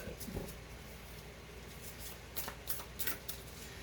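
Soft, quiet riffling of cards being shuffled, with a few crisp flicks near the end and no voices.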